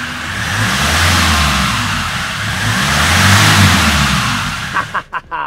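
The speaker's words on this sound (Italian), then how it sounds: "spariamoci un bel cold start" Classic Land Rover Defender with the 2.4 engine and 163,000 km starts from cold, running loud and close with a steady, rising and falling mid-pitched engine drone before cutting off abruptly with a few knocks at the end.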